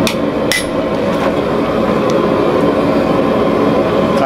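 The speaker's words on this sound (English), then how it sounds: "My big round punch here. I'm basically going to make a countersink" A big round steel punch is hammered to form a countersink for a screw in metalwork for a scythe hook: a few sharp metallic blows, the loudest early on, over a steady rumbling background.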